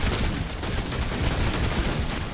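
Rapid, dense gunfire rattles without pause in a video game, a harsh, continuous burst of shots filling the whole moment.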